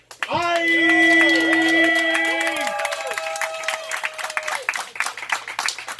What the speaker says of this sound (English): Can I get the biggest round of applause for Blaq?